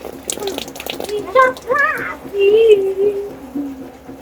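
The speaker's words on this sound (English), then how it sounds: "The water is coming back into the fish pond." Water from an aquaponics bell siphon flows back into a fish pond, an uneven splashing trickle with gurgling bursts that sounds close by.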